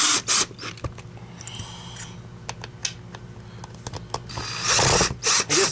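Plastic parts of a Dyson DC33 upright vacuum snapped and fitted together, a string of sharp clicks, knocks and rattling handling noises, close and loud.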